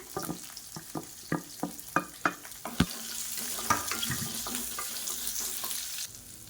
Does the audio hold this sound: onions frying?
yes